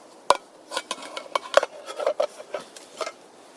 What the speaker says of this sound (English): My kettle for boiling water